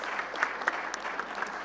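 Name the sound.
audience applause at a panel event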